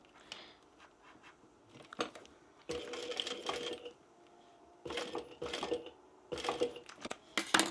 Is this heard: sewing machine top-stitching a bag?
yes